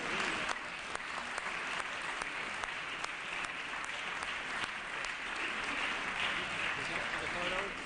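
A crowd in a legislative assembly chamber applauds steadily for young men being recognized, a dense sustained clapping that holds evenly throughout.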